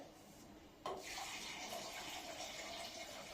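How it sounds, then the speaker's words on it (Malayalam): Water poured into a pot of fish curry, starting abruptly as a steady close splashing stream that keeps running without pause. "ഇവിടെ ആവശ്യത്തിനുള്ള വെള്ളവും കൂടെ ഒഴിച്ചു കൊടുത്തിട്ടുണ്ട്"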